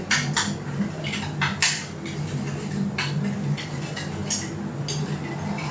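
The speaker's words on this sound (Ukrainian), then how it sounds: "Замішуємо це все до однорідної маси." A turkey jerky mixture worked together in a bowl, with repeated clinks and scrapes of a utensil against the bowl in an uneven rhythm over a low background hum, no talking.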